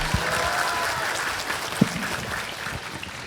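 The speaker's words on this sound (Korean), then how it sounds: "여러분 큰 박수 부탁드립니다" An audience claps after a lecture at a town economy concert, a steady, fairly faint patter of many hands filling the room with no voices over it.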